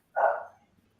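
A single short dog bark, loud and close, fading quickly into near silence.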